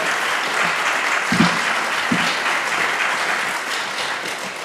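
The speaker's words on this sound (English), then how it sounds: "you've already gotten one round of applause" Audience applause at a college reunion session on diversity, a steady broadband wash of many hands clapping throughout, with a few louder individual claps standing out.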